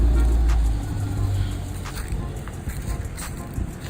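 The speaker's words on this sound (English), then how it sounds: "we're gonna do some drive-bys" A 2014 Dodge Challenger R/T with straight pipes rumbles past, a deep, loud engine note that is strongest at first and then fades to a low drone, with a voice briefly audible.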